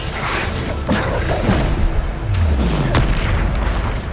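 A Bombarda spell explosion in the Hogwarts Legacy video game: loud, close booming blasts and crashing thuds in quick succession, with deep rumbling impacts running throughout.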